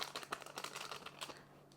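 A paper packet of vanilla sugar being torn open and emptied into a bowl for a panettone-style Easter bread dough, giving close, quiet crinkling and rustling in irregular bursts with no talk.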